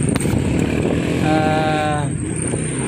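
A motorcycle engine runs steadily close by, its low rumble continuous throughout, with a brief rising tonal whine in the middle.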